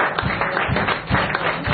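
An audience applauds in a blues club in Zagreb, a dense, steady wash of clapping that fills the room for a brief stretch.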